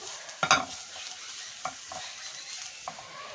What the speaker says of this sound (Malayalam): മസാല ഒന്ന് എല്ലായിടവും കിട്ടത്തക്ക രീതിയിൽ ഒന്ന് ഇളക്കി കൊടുക്കുക